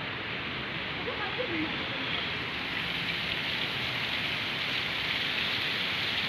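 Heavy rain pours steadily around the main stadium complex at Gelora Bung Karno on a Sunday afternoon, a dense, continuous hiss of downpour that stays loud and even throughout with no clear talk above it.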